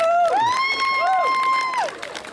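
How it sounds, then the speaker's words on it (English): Crowd at a college declaration signing ceremony applauds with loud sustained cheering and whistling over a bed of clapping hands, fading slightly toward the end. "I think deserves a very special applause"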